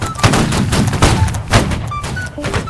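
A musket line in the video game Holdfast fires repeated volleys, ragged bursts of many shots heard several times in a row, with scattered distant shots between them.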